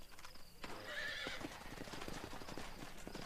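A horse neighs loudly in the Red Dead Redemption video game, a shrill whinny rising over clopping hooves and busy game noise during a gunfight scene.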